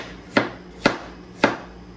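A knife chops an apple into little squares on a cutting board, three crisp, evenly spaced thuds close up with quiet between them.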